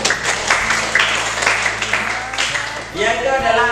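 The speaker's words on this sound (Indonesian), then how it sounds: "tepuk tangan ya" Children in a classroom clap together during a lesson on the hajj pilgrimage, a steady patter of hands running the whole time beneath a voice and other talk.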